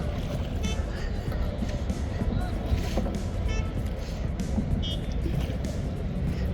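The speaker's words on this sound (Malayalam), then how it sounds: "ഒരു ബോട്ട് നമ്മളെ ക്രോസ് ചെയ്യുന്നുണ്ട്." A boat crosses close by on Dal Lake in Kashmir, a steady broadband engine and water rumble that holds for several seconds, with faint chatter and clicks over it.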